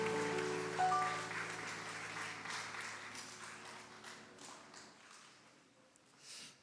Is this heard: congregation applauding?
yes